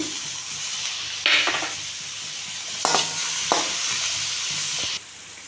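Tomato frying with spices in an oiled pan for wheat shell pasta, a steady close sizzle broken by a few sharp spoon scrapes and stirring knocks, ending in a quieter hiss.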